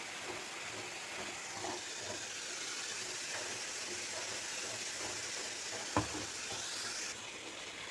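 Ginger garlic paste sizzling in a hot pan as the base for a mushroom gravy, a steady, dense hiss of frying with one brief clink of a utensil near the end and no talking.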